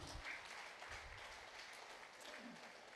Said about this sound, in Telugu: గట్టిగా క్లాప్స్ కొట్టుకుందాం